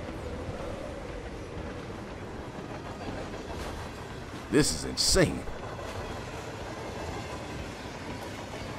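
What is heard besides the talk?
train riding along the tracks, from the video game Hitman 3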